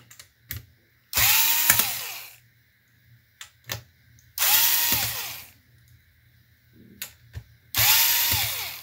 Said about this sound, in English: now I go around and take all the screws that are holding the motherboard in and out